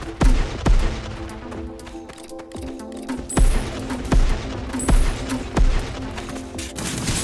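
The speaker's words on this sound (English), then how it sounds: "This is her rocket launcher." A character's rocket launcher in Risk of Rain 2 fires in a string of sharp blasts, roughly one every second, loud and punchy with background game noise between shots.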